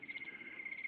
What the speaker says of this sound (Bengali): ঝিঝি পোকার ডাক শোনা যাচ্ছে শুধু